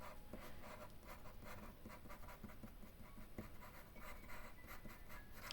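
Pencil strokes scratch across paper in a steady series of soft, quick, rhythmic scrapes, close and faint, with no talking.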